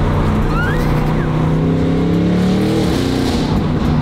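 A drag car engine roars under hard acceleration while being driven, heard loud and close from inside as a continuous deep growl that rises steadily in pitch, with no speech over it.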